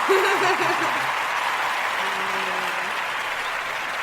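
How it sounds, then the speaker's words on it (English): Audience applause during a podcast recording, a moderate, steady clapping wash with brief voices and a chuckle over it. "I forgot to give you a round of applause"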